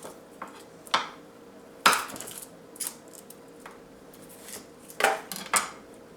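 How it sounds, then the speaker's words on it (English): A knife trims the hard bottoms and pointed tops off garlic cloves on a cutting board, a handful of sharp, separate clicks and taps with quiet pauses between them. "Cut off the hard bottom and the pointed top of the cloves."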